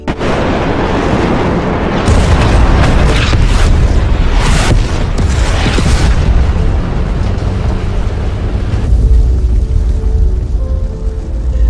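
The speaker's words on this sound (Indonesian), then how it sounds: "Kolonel Mazrui kemudian memberi perintah untuk menjatuhkan semua bom yang mereka punya" Bombs dropped in a fighter jet air strike explode in heavy, continuous booming blasts, loud and close, forming a sustained roaring rumble that eases toward the end.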